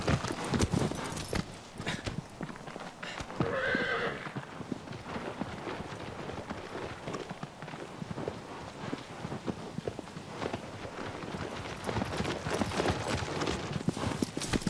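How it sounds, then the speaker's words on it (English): Horse galloping in the video game Shadow of the Colossus, a rapid, steady clip-clop of hooves running throughout, fairly close, with a brief lighter sound midway and no talk. "I don't know how to slow the horse down."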